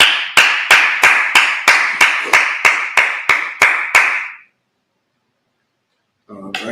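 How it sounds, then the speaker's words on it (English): A congregation at a Sabbath service claps together in a steady rhythm, with about a dozen sharp, loud, evenly spaced claps. Silence follows, then a faint sound at the very end. "clap it up."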